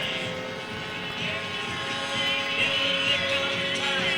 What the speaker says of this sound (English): The Snoopy Doghouse, very difficult to fly airplane.